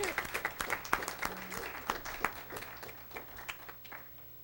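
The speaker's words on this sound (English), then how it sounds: "thanks everybody for that round of applause" A small audience at a school board meeting claps for a student board member, a sparse, uneven round of individual claps that thins out over a few seconds, with a faint voice briefly beneath it.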